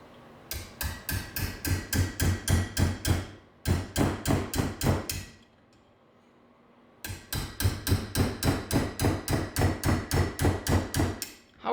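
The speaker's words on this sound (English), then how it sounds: "How rusted solid is this head if I can't even take it off with a hammer?" A hammer repeatedly strikes the seized, rusted cylinder head of a Yamaha PW80 engine, sharp metallic blows in quick regular runs of about a dozen hits, pausing briefly before another equally loud burst.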